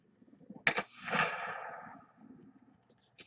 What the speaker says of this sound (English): you can actually hear that bullet hit